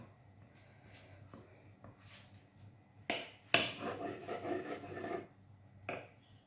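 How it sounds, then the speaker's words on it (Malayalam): Aloo paratha dough dusted with flour being rolled out on a board, soft rubbing and rasping strokes with a few sharper knocks, fairly close and quiet, with no voices. "നമുക്കിതൊന്ന് പരത്തിയെടുക്കണം. ഒന്ന് പരത്തിയെടുക്കാം. കുറച്ച് പൊടി തടവി കൊടുക്കാം."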